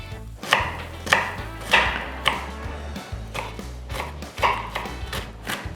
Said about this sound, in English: Very finely chopped onions